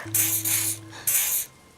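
Two bursts of a white pheromone spray can in the game Disco Elysium, a short hiss and then a longer one after a brief pause, close and clear with no talk.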